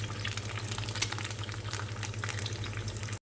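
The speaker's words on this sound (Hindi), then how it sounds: "अब इनको मैं फ्राई करूंगी।" Eggs frying on a tava griddle, a dense, steady crackling sizzle heard up close and fairly loud for a few seconds, with no one speaking.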